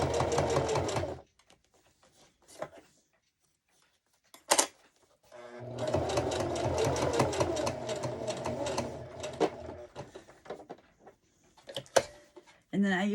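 A sewing machine stitches an ID holder in long bursts of steady mechanical whirring, stopping and starting between runs, with a person talking in the pauses.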